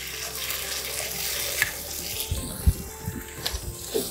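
Sautéed vegetables frying in a pan as tomato sauce goes in for macaroni pasta, with a continuous sizzle broken by scattered stirring clinks and knocks.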